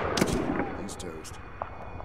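Distant mortar fire from 82 mm mortars in the video game Medal of Honor (2010), a few dull booms and thuds at the start, then fainter scattered impacts under a low ambient rumble.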